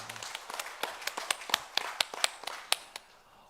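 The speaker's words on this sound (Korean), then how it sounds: "하나님께 영광의 박수를 드리겠습니다" A church congregation claps in praise to God at a Sunday worship service, a loose scattering of hand claps with irregular rhythm, faint and somewhat distant, tapering off at the end.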